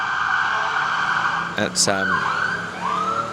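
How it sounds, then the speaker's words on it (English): A police car siren wails as it passes by outside, its pitch sweeping and shifting over traffic noise, while someone says a brief word. "Sirens going past."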